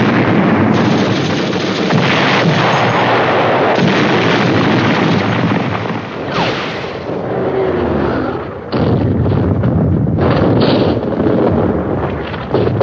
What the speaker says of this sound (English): For explosive action on the battlefield, the Universal Studios Sound Effects Library places you in the midst of some of the most famous war